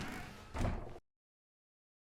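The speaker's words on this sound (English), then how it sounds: "When Stanley came to a set of 2 open doors, he entered the door on his left." In the video game The Stanley Parable, a door thuds shut with a single dull slam about a second in, then the sound cuts to complete silence.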